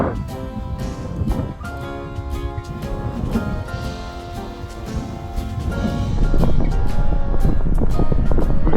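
Strong wind gusts buffet the microphone of a cyclist riding on Newfoundland's Burin Peninsula, a loud, continuous roar that keeps building toward the end, with a tonal hum running beneath it.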